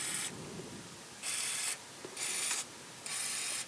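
Four short hissing bursts of contact cleaner sprayed into potentiometers and switches, each spray lasting about half a second, separated by brief quiet gaps with faint handling clicks.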